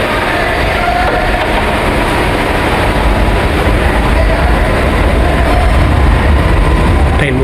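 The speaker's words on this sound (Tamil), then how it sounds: "ட்ரெயின் மூவ் ஆயிடுச்சு." A suburban train on the Velachery to St Thomas Mount route pulls away, producing a loud, close, continuous rumble and rattle that stays steady throughout.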